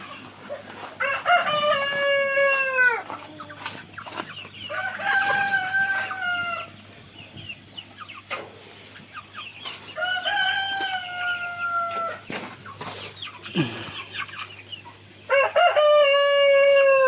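Chickens cluck nearby while a rooster crows several times, its long calls repeating every few seconds over a quiet farmyard background.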